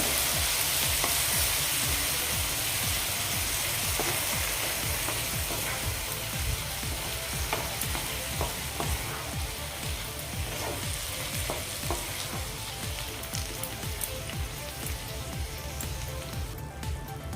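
Cooked moth beans (mataki) being stirred in a pan over a gas flame, a steady sizzle of frying with continuous scraping and stirring throughout, close and fairly even in level.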